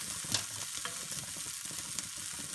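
A vegan JUST Egg omelette cooks in a pan, giving a steady, soft sizzle with faint crackles and a couple of brief pops, fairly quiet and without any voices.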